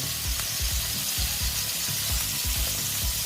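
Continuous crackling sizzle of paneer frying in hot oil, with soft rhythmic low thumps beneath, steady and close with no voices.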